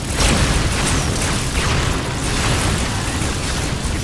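A low-yield torpedo explosion in a science-fiction action film roars as a dense, sustained rumbling blast that fills the whole clip at high volume.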